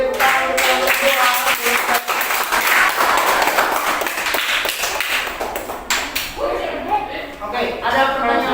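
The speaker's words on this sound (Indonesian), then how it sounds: "tepuk tangan untuk kelompok 2" Classmates clap for a student group after their presentation, uneven bursts of clapping mixed with cheering and chatter, near and fairly loud.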